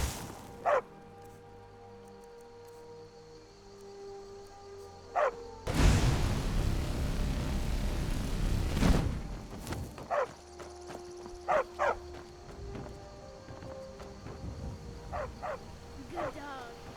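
Several short dog barks from a dog in Skyrim, scattered singly and in pairs over a low ambient hum, with a loud rushing swell in the middle.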